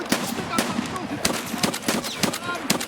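Shotgun-wielding scavs open fire in the shooter game Escape From Tarkov, a rapid, irregular barrage of sharp gunshots that cracks repeatedly through the whole stretch, loud and close.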